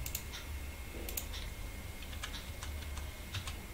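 Keys on a computer keyboard are pressed while moving a wall element in Revit Architecture software, giving faint, scattered clicks and taps spread across a few seconds with no talk.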